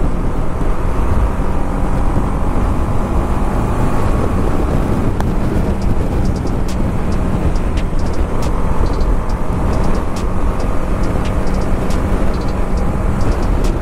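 A BMW G 310 RR motorcycle cruising along an empty highway: steady, loud engine drone mixed with heavy wind rush against the microphone, continuous throughout with no speech.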